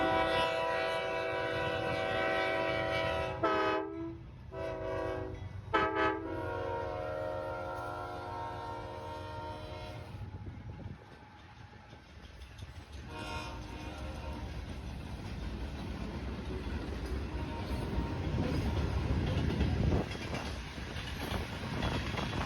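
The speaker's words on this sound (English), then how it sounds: "a symphony of train horns was there to meet us as soon as we arrived" A freight train passes at Folkston and sounds its horn in several long blasts with short breaks, then gives way to rumbling rail noise and wheel clatter, loud and nearby with no speech.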